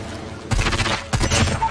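Two sudden bursts of crackling video game ultimate-skill explosions, loud and close, each followed by a rumbling, sputtering tail.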